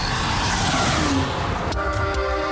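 A 1990 Vauxhall Lotus Carlton, the Lotus-developed Carlton GSI saloon with a 3.6-litre DOHC 24-valve engine, drones loudly and steadily, its note shifting slightly partway through.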